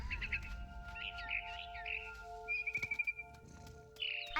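Panicked chirps from a barn swallow at its nest in the video game What Remains of Edith Finch, a string of bright rapid tweets with a quick fluttering burst midway over a steady game ambience.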